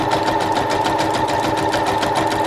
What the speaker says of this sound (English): I'm going to lift my presser foot, and we're going to start sewing at the 3